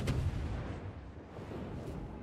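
Warship guns boom in a naval video game, a destroyer taking long-range shots at a Cleveland cruiser; a sharp loud report opens, then a low rumbling decay with another distant shot near the end.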